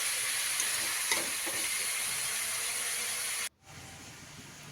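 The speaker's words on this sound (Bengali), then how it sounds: "এবার সবজিগুলো দিয়ে দিলাম, দিয়ে একটু নাড়াচাড়া করে সবজিগুলোকেও ঠিক চাল আর ডালের মতো হালকা করে ভেজে নেব।" Vegetables for khichuri fry and are stirred with rice and lentils in a pan, a steady loud close sizzle with occasional scraping stirs, cutting off abruptly to a quieter hiss near the end.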